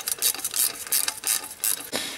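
A ratchet clicks in quick repeated bursts as it loosens the bolts on the EGR cooler of a BMW diesel engine, close and crisp with short pauses between the strokes.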